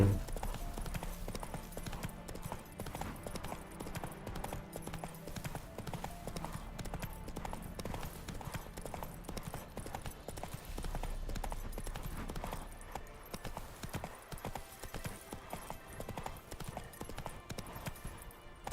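Horse galloping in The Witcher 3, a fast, continuous drumming of hoofbeats under dense game music and ambience, steady throughout at moderate loudness.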